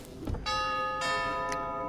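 Doorbell in Five Nights at Freddy's: Help Wanted, a two-tone electronic chime with ringing tones that sustain and overlap, sounding close and clear with a soft knock just before it.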